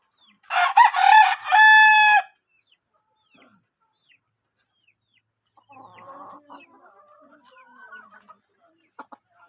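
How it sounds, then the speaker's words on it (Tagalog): A brood rooster gives one loud, close crow, followed after a short quiet by brood hens clucking softly in scattered bursts, with a few sharp clicks near the end; no talk is heard. "Yan ang mga brood hen. Ito naman yung brood cock."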